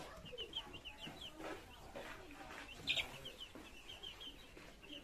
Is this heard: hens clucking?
yes